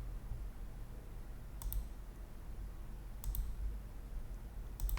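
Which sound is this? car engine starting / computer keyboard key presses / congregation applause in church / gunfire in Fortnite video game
computer keyboard key presses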